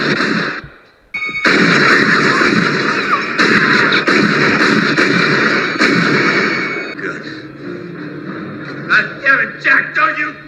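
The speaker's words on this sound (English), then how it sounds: "So Gans shoots Algren's colleague, and now full-blown shootout" Gunfire bursts in the shootout from the 1982 film 48 Hrs., dense loud shots and impacts layered over film score and action noise, thinning out toward the end into a few separate hits.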